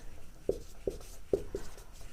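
Chalk or marker strikes a board in four short, distinct taps during a geography lesson, faint against a quiet room.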